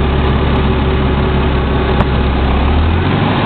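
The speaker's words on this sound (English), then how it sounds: "hear the engine speed up" A vehicle engine with a vacuum leak runs steadily and close by, a constant low rumble that shifts slightly near the end as the engine speed changes.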